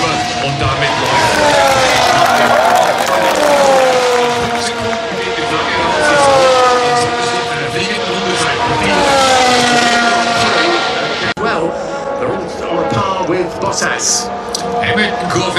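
Formula 1 cars accelerate off the start line at the 2019 Austrian Grand Prix, their loud engine whines rising and falling in overlapping sweeps as they pass, with a commentator talking over the roar.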